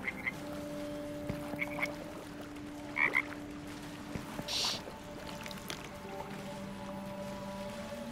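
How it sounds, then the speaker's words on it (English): In a swamp in the video game Baldur's Gate 3, a frog lets out two short croaks, faint and a little distant, over a quiet bed of sustained ambient tones. "Where the fuck is this frog taking me?"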